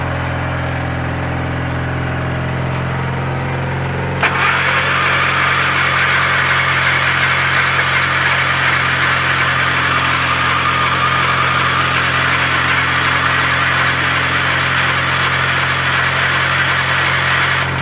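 A small engine, hooked up to a battery with a nearly full tank, turns over and fires during a cold start without choke. It catches about four seconds in and then runs alone at a loud, steady idle with strong vibration.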